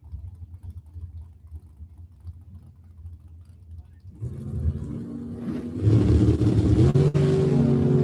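Drag race launch of an S10 truck doing a wheel stand beside a dragster, pink two-tone paint: low engine rumble builds, then a loud roaring surge of revving engines takes over and holds to the end.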